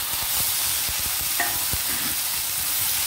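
Tomato, capsicum and curry leaves fry in a drop of oil in a pan, a dense continuous sizzle with soft scraping stirs and a brief clink.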